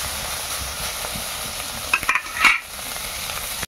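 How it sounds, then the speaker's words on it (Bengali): A mother frying sour-style shrimp in a little oil in a Bengali village kitchen, stirring them: a steady sizzling hiss with a few sharp scraping clinks of the spatula near the middle, no talk. "টকের চিংড়িগুলো মা ভেজে নিচ্ছে।"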